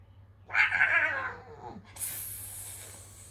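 A voice imitates a naughty cat with a drawn-out, whiny yowl, followed by a sharp, airy hiss.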